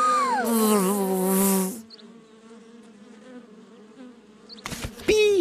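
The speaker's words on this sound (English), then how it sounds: "the sweet-smelling daisy attracted a swarm of bees" A swarm of bees drawn through an open window to a sweet-smelling daisy makes a steady, droning buzz that holds throughout, with a brighter, louder burst at the start and another near the end.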